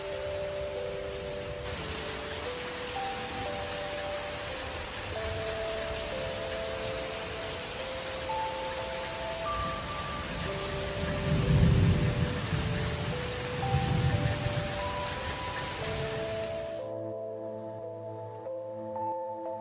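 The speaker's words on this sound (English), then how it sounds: "The rain won't stay away" Steady, heavy rain pours down around a cabin under construction, with deep thunder rolling in twice near the middle and soft sustained tones drifting over the downpour.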